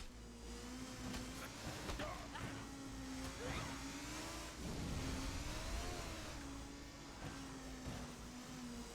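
A motorbike engine in the video game Dead Rising 3 hums and revs steadily, its pitch wavering up and down in a continuous mid-range drone heard fairly close and quiet, with no talk.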